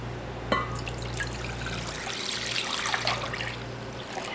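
Robiola cheeses are lowered into a container of saturated salt brine, with a sharp splash near the start followed by gentle trickling and dribbling of liquid, close and quiet.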